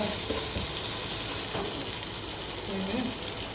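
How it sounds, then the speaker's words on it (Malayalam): Cumin seeds sizzle in hot oil for butter chicken, a close steady hiss that eases slightly partway through, with faint background murmurs beneath. "ജീരകം ഒന്ന് മൂത്ത് വെക്കാം."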